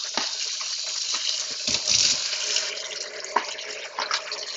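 A kitchen tap runs steadily while food is rinsed under ordinary water, a continuous close hiss with occasional splashes and clunks over it and no talking.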